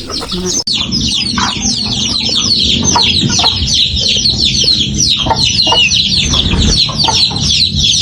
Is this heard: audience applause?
no